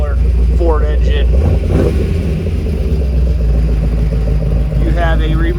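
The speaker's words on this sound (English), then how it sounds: "Listen to that side oiler Ford engine." A Ford 427 side-oiler V8 idles in a 1948 Ford Woody wagon hot rod, a loud steady low rumble throughout, with speech-like voice traces appearing over it at moments.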